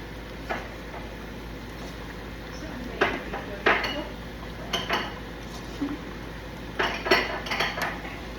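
A utensil stirs banana slices and lots of brown sugar in a pan, making intermittent scraping strokes and light metallic clinks in irregular bursts over a faint background.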